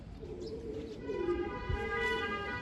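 Pigeons set out in the sun outside their loft coo softly, with low, rolling calls and faint chirps over a quiet background.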